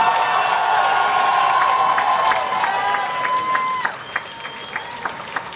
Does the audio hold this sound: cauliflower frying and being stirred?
no